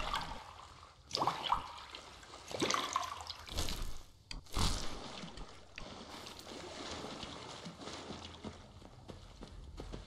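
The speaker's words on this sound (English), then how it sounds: "Let's get these bottles filled now." Water bottles being filled in Fallout 4, with splashing, trickling water sounds in repeated bursts alongside clanks and a steady watery wash, fairly quiet and without speech.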